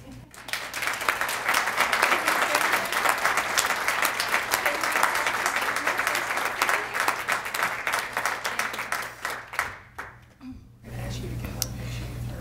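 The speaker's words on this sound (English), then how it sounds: "I'm going to step away and let people applaud you" Sustained audience applause at a citation presentation, dense clapping that swells and holds for several seconds, then thins out and fades before a voice begins speaking.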